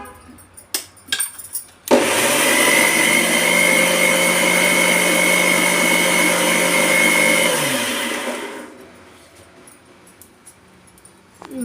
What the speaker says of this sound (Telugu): ఇప్పుడు మిక్సీకి వేసుకుందాం ఫ్రెండ్స్